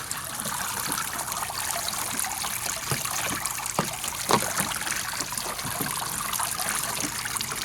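Water trickles steadily from the pump-fed waterfall of a Step2 Tropical Rainforest toy water table, a continuous close splashing dribble with small drips throughout and no talking.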